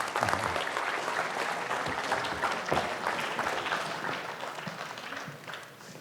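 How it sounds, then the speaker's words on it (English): A lecture audience in Bangalore applauds a speaker with dense, sustained clapping that fades gradually toward the end. "Please give a warm and enthusiastic applause to Dr. Pramod Varma."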